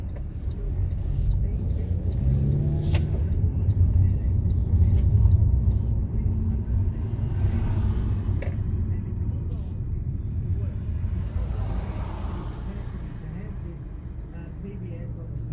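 A new car cruises along a road, producing a steady low rumble of engine and tyre noise throughout, with people talking inside the cabin.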